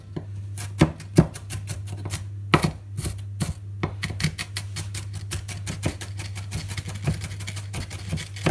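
A knife chops onions on a cutting board in quick, steady taps that speed into a rapid run, close and clear over a constant low hum.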